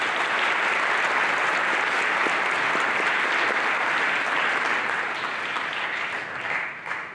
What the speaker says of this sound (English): So nice round of applause for our sports boosters.